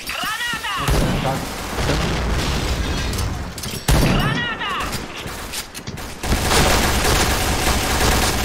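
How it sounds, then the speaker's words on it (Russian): A grenade blows up in a video game with a loud, booming burst. It lands among rapid gunfire, and a second blast follows partway through. A voice shouts over the noise. "Граната!"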